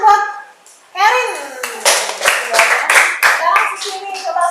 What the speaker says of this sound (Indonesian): Kita tepuk tangan buat Karin.